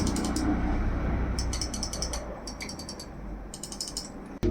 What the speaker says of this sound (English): so basically it's a very lightweight mouse, and I'm going to give you guys the sound.